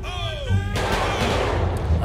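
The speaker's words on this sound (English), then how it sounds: "Oh, they're shooting out there. My security is out there shooting right now." Gunfire from security guards in GTA 5 rumbles as dense, continuous low booms and crackle, loud and sustained with no clear pauses.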